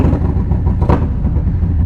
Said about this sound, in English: That V-twin engine sound from a Harley is instantly recognizable and often imitated